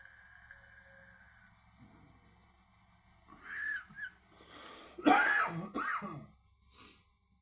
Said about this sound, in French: l'été avec la vape, j'ai tendance à tousser